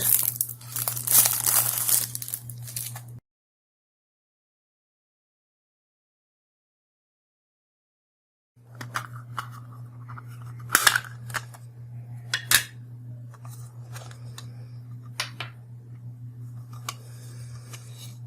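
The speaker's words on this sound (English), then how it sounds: "So I am opening this one. This is the transparent enclosure." A transparent SSD/HDD enclosure is pried open in sharp plastic clicks and snaps, a few louder cracks standing out over a steady low hum, with a silent gap partway through.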